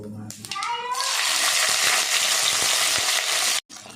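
Okra is frying in a little oil with a five-spice tempering and a bay leaf, making a loud, continuous close sizzle that starts after a short voice and cuts off abruptly near the end.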